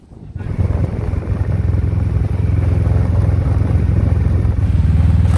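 Motorcycle ridden away from a jetty in Thailand, its engine a steady loud low drone that starts abruptly and holds throughout, with wind buffeting the microphone.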